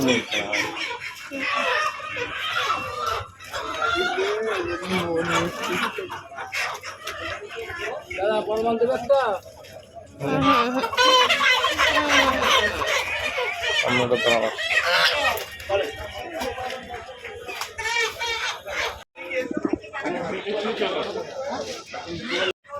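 Chickens and ducks cluck and squawk at a busy village market, their calls mixed into constant crowd chatter and nearby voices talking throughout.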